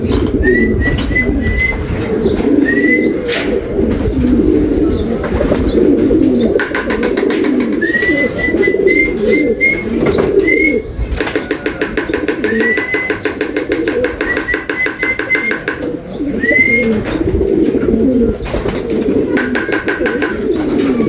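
Racing pigeons coo repeatedly in short rising calls, close and fairly loud, over a steady rumble of background noise and faint distant voices.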